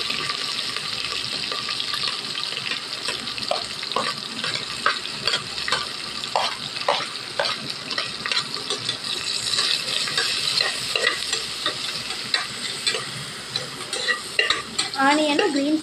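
Onion and green chilli stir-frying in a pan, giving a steady bright sizzle broken by repeated scraping and clinking from the spatula, close up and without speech.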